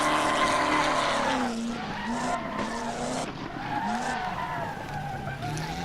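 Tires skid and slide on a car in a Hot Wheels video game, squealing steadily with wavering, sweeping tones across the whole stretch, loud and close with engine noise underneath.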